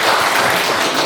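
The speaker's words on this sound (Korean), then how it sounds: "우리 재윤경 의원님이 좀 적극적으로 도와주시라고 박수 한번 드립니다." Short burst of dense applause from a village meeting crowd about a solar-power project, close and steady for about a second.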